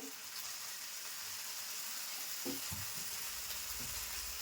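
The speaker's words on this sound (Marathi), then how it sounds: "व्यवस्थित असं परतून घेते" Fish with Malvani masala, turmeric and salt sautéing in a pan, a faint steady sizzle of frying with a few soft stirring scrapes near the end.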